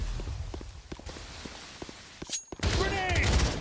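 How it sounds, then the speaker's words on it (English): Rapid bursts of gunfire ring out in a competitive first-person shooter round, with sharp shots and footsteps early, then a dense, loud barrage erupting near the end. "Opening fire!"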